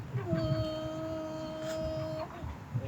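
A voice imitates a swarm of mosquitoes and black flies with a sustained, wavering nasal whine lasting a couple of seconds, close and fairly quiet.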